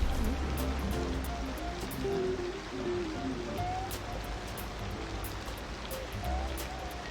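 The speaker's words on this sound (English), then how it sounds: "Just walking in the rain" Steady rainfall in Cities Skylines 2 patters continuously on surfaces, a dense hiss with scattered drops and a faint low rumble underneath, no voices.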